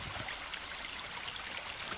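Steady flowing water at a river mouth in the survival game The Forest, a soft continuous wash and trickle heard alone at low level throughout.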